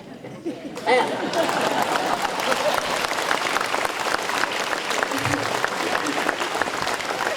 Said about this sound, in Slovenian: ker so devali zelo glasne aplavze našimi nastopajoči